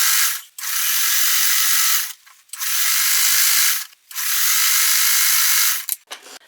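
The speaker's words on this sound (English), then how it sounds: "I'm going to sew this on" A sewing machine stitches quilt fabric strips for a bargello block in three long, steady whirring bursts separated by short pauses, close and loud with no voices.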